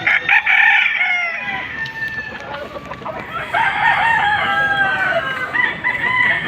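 Roosters crow repeatedly over a busy background of clucking chickens at a chicken market in Lipa, Batangas, several birds calling at once, loud and close.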